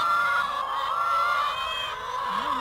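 Free-range hens collected for an allotment in springtime Shropshire, giving a drawn-out, wavering call held steadily for a couple of seconds, close and fairly loud, ending with a brief low cluck.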